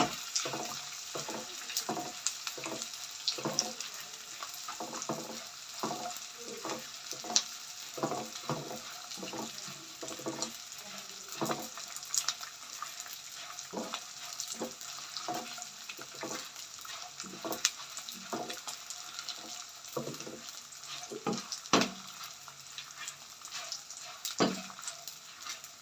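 Edible gum (gond) frying in a pan of fat for panjiri, giving a soft continuous sizzle with scattered crackles and pops, fairly quiet and without talk.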